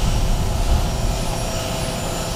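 A high-speed die grinder spinning around 40,000 RPM drives a tapered carbide burr on a 1/8-inch shank into metal, producing a loud, steady, dense whine with no pauses.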